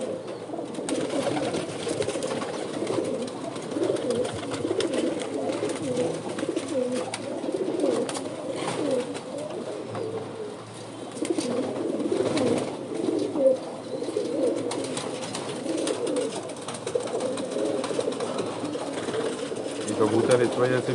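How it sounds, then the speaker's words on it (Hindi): Pigeons from different cages, housed together on a rooftop loft, coo in a steady, overlapping murmur that runs the whole time, while someone talks over the flock. "कबूतर इस वजह से भी परेशान हैं"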